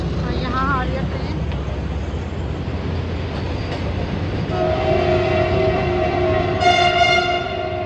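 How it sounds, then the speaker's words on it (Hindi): A train arrives near Shahdara railway station, with a steady rolling rumble of rail noise that swells as a long, loud horn blast sounds near the end. "रेलवे स्टेशन पीछे ही है, शादरा का वो रहा रेलवे स्टेशन। और यहाँ आ रही है ट्रेन।"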